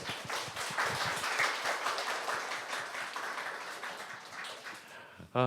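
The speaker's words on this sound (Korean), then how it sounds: "박수 한번 칠까요?" Audience applause at a Korean history talk show for Patriots and Veterans Month, a broad wash of many hands clapping that holds steady and slowly thins, ending abruptly as a voice begins.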